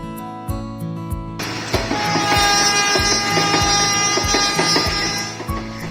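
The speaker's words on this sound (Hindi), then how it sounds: "पटरियों पर जब छुक छुक करती हुई ट्रेन मंजिल की ओर बढ़ती चली जाती है" A train runs on tracks near Dilwa railway station amid forest and hills, with a loud continuous rumble and regular rhythmic clacks of wheels over rail joints.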